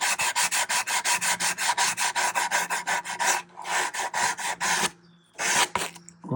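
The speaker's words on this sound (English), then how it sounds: "just taking my sandpaper" Sandpaper wrapped on a bendable sanding sponge rubs by hand over carved wood on a scratch-built custom model, rounding over an edge: fast, close, steady back-and-forth rasping strokes, then a short pause and a few final strokes.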